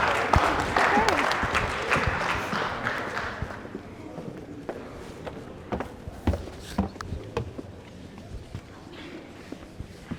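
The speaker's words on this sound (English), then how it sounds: "Let's give a round of applause for our friends from TCC." An audience at a college academy assembly claps for visiting guests, applause that starts fairly full, then thins into scattered, separate claps as it fades out.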